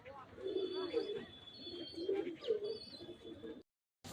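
Pigeons coo in low repeated throaty bursts near a rooftop in the early morning, with wing flutters and light chirps, before a brief silence.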